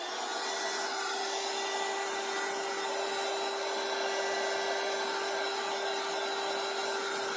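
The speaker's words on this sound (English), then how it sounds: "So let's go ahead and dry it with the heat tool." A heat tool blows steadily to dry matte medium on a craft piece, a loud continuous whooshing hiss with a sustained whine running throughout, close and alone.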